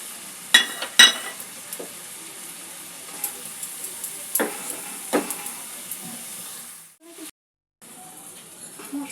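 Ground turmeric, chilli, coriander and cumin fry with ginger-garlic paste in a pan for a pointed gourd and prawn curry. A soft continuous sizzle runs under a few sharp scrapes and knocks of stirring, then briefly cuts out.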